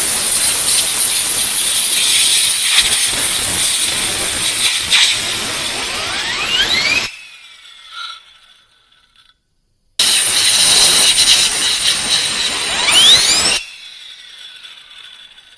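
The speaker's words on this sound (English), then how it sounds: "Blow out the groove on both sides. And then the front sprocket over here, this thing is going to spin like crazy." Compressed air blasts through the bar groove of a STIHL 025 chainsaw and sets the front sprocket spinning, a loud close hiss with a rising whir in two long bursts separated by a brief quiet gap.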